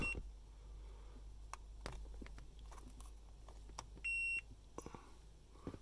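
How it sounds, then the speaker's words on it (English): Multimeter continuity beeper on a 2005 Hummer H2 horn switch, giving one short steady tone as contact is made, faint among scattered clicks and handling noises. "I've got a beeper on my multimeter. If I push this bar in, you can hear that it makes contact top."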